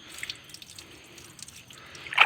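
Water spills over the rim of a lotus pot in a garden and drains away, a soft trickle and scattered drips that end in a brief louder splash.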